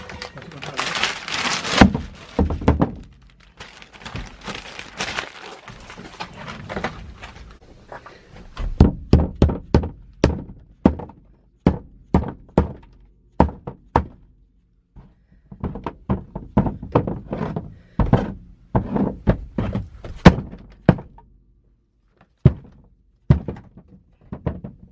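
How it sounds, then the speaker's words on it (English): A hammer repeatedly knocks material out of the interior of a 1995 Honda Civic coupe during roll cage preparation. Loud, sharp thuds come in irregular clusters with short pauses, some scraping mixed in, and no voices. "start hitting it with a hammer, knocking this stuff out"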